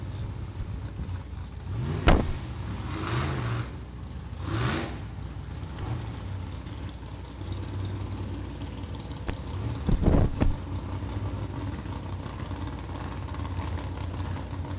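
Small block and big block drag race cars idle at the line at the Holley National Hot Rod Reunion, a steady low engine rumble with a couple of sharp revving bursts standing out, heard from a little distance.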